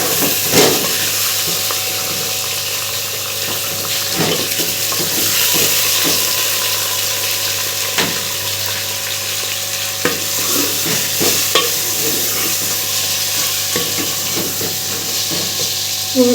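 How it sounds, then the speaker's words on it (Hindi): Onions fry in oil in a pan for chicken korma, a loud sustained sizzle with steamy hiss and repeated stirring scrapes and clacks across a long stretch, close and without talk. "अब इसमें डालेंगे प्याज"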